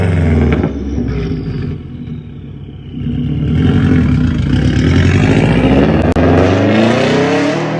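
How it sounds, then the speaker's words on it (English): A Subaru flat engine with unequal-length headers rumbles in a loud, lumpy burble, then revs higher and keeps pulsing steadily, close and dominant, with no talking over it. "the burble, the Subaru burble."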